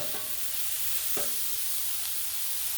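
Marinated steak frying on a Blackstone flat-top griddle, a steady bright hiss of sizzling fat with a couple of brief spatula scrapes, close and without talk.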